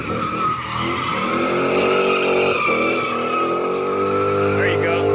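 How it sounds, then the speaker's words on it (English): A Lexus drift car with a custom rear diffuser skids in second gear, tires squealing loudly and continuously over a steady engine drone, close and unbroken throughout, with no talk. "we're getting ready to do a little bit of skids"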